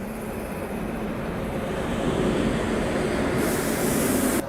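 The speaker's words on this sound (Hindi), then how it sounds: "वो मालगाड़ी स्किप कर रही है" A freight train skipping through a railway station on the Central Railway, a continuous loud rumble and rattle of wagons that swells slightly and carries a hissing spray-like edge throughout, with no talk.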